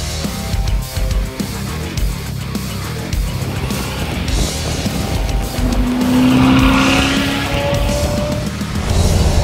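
A fast car powers along winding roads up and around La Turbie, engine note rising and shifting through gears with a brief tire squeal, loud and close, no talk.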